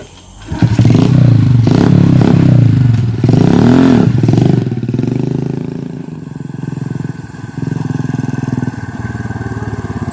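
A motorcycle engine revs loudly up close, its pitch rising and falling, then settles into a rough, steady idle.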